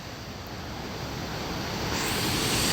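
Water rushes through the raised sluice gates of Mallavaram reservoir in a continuous, loud, broad roar that swells slightly toward the end, with no voices present.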